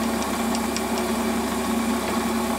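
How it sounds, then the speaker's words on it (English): A steady mechanical whine hums continuously as a drill held in a lathe bores a hole through plastic, with no voices. "I'm just going to drill a hole"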